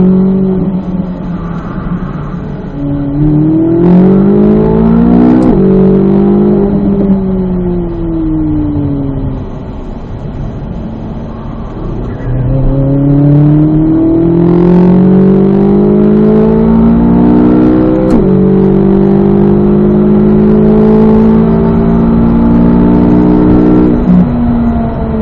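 Corvette Z06 race car driven hard around the Ron Fellows East track, its loud engine revving up through the gears and easing back repeatedly in sustained, rising and falling sweeps close to the car.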